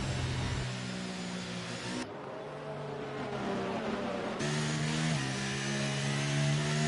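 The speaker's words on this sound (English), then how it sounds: "As you hear that pace car go by, beautiful" A pace car in a Formula 1 racing video game at Spa drives past with a steady, buzzing engine note that shifts in pitch as it goes by. Other engine tones continue alongside it throughout.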